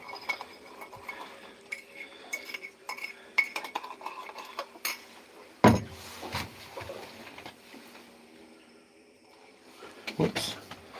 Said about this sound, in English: Just give that a little stir up.